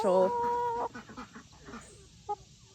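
A hen in a backyard homestead flock gives a loud, close cluck and squawk, followed by softer scattered clucks and a brief call near the end.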